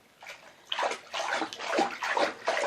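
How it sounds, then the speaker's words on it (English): Bath water sloshes and splashes in a tub made glittery and scented by small floating pieces of a Lush Granny Takes a Dip bubble bar. Repeated soft swishing surges come close and moderately loud, with no talking. "enjoy our unusually scented bath with our funky water with glitter"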